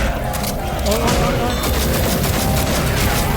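Dense, continuous gunfire fills a zombie-survival match in Left 4 Dead 2, played with friends and mods, and a voice talks through the constant noise.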